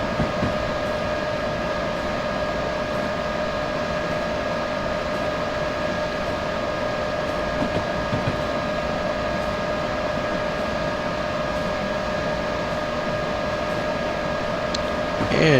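A train in Train Simulator 2015 rumbles steadily along bad track in bad weather, a continuous droning roar with steady tonal hum layered over it, unbroken for the whole stretch and unaccompanied by talk.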